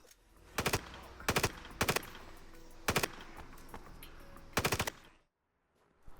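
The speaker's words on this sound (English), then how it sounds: "a lot of guns sound and handle pretty well," AUG and Norinco guns fire in the video game Project IGI 2, with five short, loud automatic bursts separated by brief pauses over a steady ambient background that drops to silence at the end.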